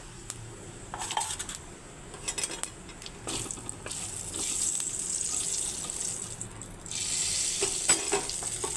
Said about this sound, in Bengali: ওই একই কড়াই আমি তেল দিয়ে আগে কালো জিরে ফোড়নে দিয়ে দিচ্ছি